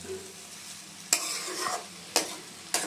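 Poa bhola fish and vegetables are stirred slowly in a pan over low gas. A soft background sizzle is broken by three sharp spatula scrapes against the pan, close by and with no voices.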